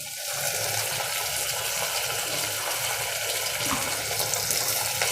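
Water streams and splashes steadily for a few seconds as it is squeezed by hand out of soaked soya chunks, close and continuous, with no talking.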